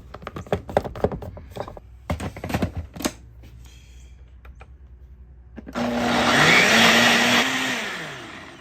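A blender purees a spicy sauce with garlic for Mexican chicken quesadillas, roaring loud and steady for a few seconds after a stretch of clattering kitchen prep sounds.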